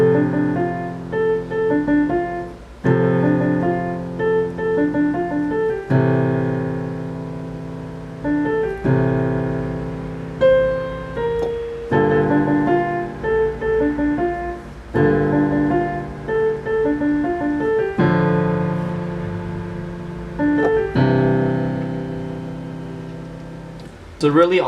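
Piano playing the chorus of a song, a repeating right-hand melody over sustained chords, steady and close, clear with no talking over it.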